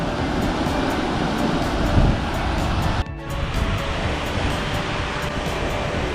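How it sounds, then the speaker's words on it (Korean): Rough surf roars steadily at Saeseom islet by Seogwipo harbour, Jeju, with constant wind buffeting the microphone, a brief dip midway before the churning water noise resumes. "파도도 세고요"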